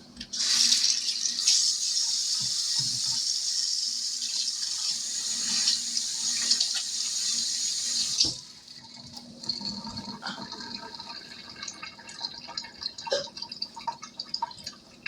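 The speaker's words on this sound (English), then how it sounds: "Let me wash my hands right quick." A kitchen tap runs steadily with a loud gush for about eight seconds while hands are washed, then shuts off, leaving drips and light splashing in the sink.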